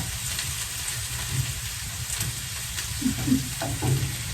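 Homemade erişte noodles roast in a pan over a wood stove fire, giving a soft continuous sizzle with occasional light stirring scrapes, fairly quiet and steady.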